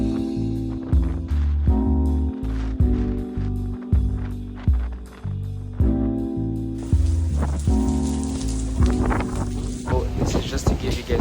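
Heavy rain with strong wind on a stormy day in Taiwan, a steady hiss of rainfall mixed with loud tonal background sounds that stay prominent throughout.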